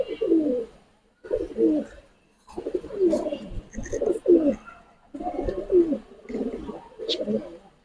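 Several pigeons in a Giribaj and colouring pigeon collection coo in repeated low, throaty bursts, about six phrases with short pauses between them, fairly close and clear.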